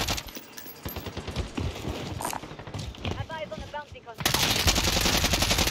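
Rapid bursts of automatic gunfire in a first-person shooter, loud and close, with clipped shots mixed under players talking over voice chat and a dense burst of fire near the end.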